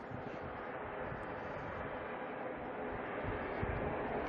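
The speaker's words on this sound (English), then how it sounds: "Next ATR heading on out" An ATR turboprop heads out at Auckland Airport, bound for Rotorua, giving a steady, fairly faint broadband engine drone that holds evenly with no talk over it.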